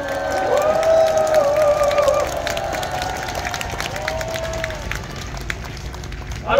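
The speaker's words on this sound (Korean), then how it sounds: "박수를 한번 쳐주십시오" Outdoor political rally crowd in front of the National Assembly in Yeouido, Seoul, applauding and cheering with shouts and whoops over dense clapping, loud at first then easing off.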